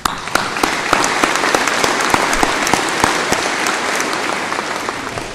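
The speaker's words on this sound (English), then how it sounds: "Let's give them an applause." Graduation ceremony crowd applauding for the class of 2024, a loud, dense, sustained roar of many clapping hands with sharp individual claps standing out.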